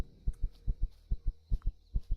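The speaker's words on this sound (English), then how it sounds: "That heartbeat's new." A heartbeat sound effect in the survival video game Empyrion, a clean, steady thump-thump pattern of about six double beats in two seconds over a faint electronic hum.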